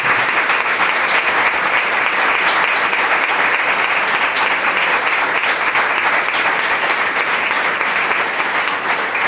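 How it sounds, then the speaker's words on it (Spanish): Sustained applause from the audience at an art exhibition opening for a drawing show, dense steady clapping filling the room without letup. "yo le pediría un fuerte aplauso a él, a su padre, a su madre y a todo lo que está aquí."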